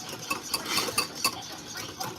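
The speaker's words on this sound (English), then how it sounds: "Now you're just going to whisk that until it's like a pale yellow" Eggs whisked by hand in a bowl for eggs Benedict, a steady run of light scraping and ticking strokes with regular sharper clinks of the whisk against the bowl, close and fairly quiet.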